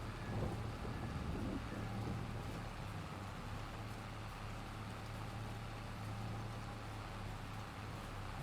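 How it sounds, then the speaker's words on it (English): Thunderstorm ambience in Farming Simulator 22: a constant wash of rain and wind with a low rumble underneath, steady and fairly quiet throughout, with no talking. "I'm enjoying the thunderstorm sounds."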